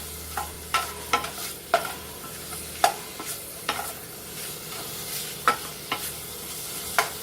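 Bacon fries in a pan with a steady, close sizzle, punctuated every second or so by sharp scrapes and taps of a utensil stirring it.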